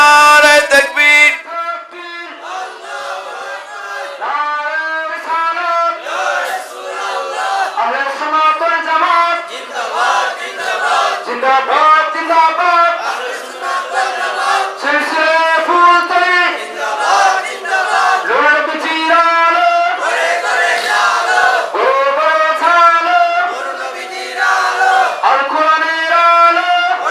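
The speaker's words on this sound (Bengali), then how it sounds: "আরো জোরে বলুন নারে তাকবীর" A large crowd at a Bangladeshi Islamic waz gathering chants the takbir in unison, loud, sustained voices swelling and repeating in waves throughout, with a leader's voice prompting between responses.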